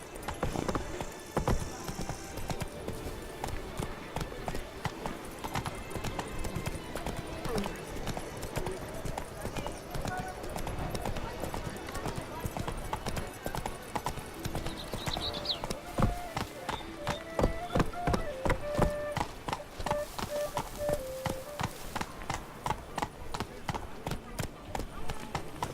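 Horse hooves galloping in The Witcher 3, a fast rhythmic clip-clop that runs throughout, with game music and occasional voices over it.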